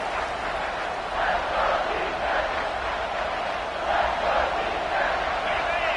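Stadium crowd roaring at a college football game against Texas A&M, a dense, sustained rumble of many voices swelling slightly in waves as the defense faces a red zone stop.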